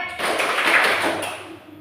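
Hand clapping during a classroom clap game, a few quick claps blending with a bright tapping ring, fairly close and then fading.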